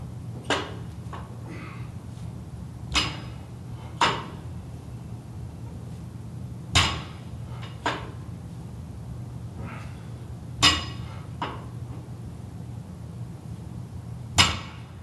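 Barbell deadlift repetitions in a gym, heard as a series of sharp, fairly loud thuds and clanks of the bar and plates landing, spaced a few seconds apart, over a steady low background hum.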